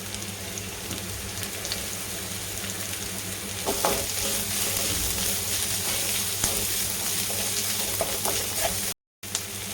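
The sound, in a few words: onion, carrot and capsicum sautéing in a pan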